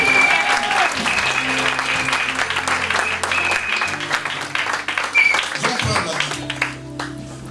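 A church congregation claps and cheers in sustained applause for several seconds, dense and fairly loud, with voices calling out among the claps before it thins toward the end.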